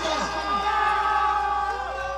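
A backyard wrestling crowd whoops and cheers at GCW, excited yells and rising calls layered over a steady murmur of voices close by.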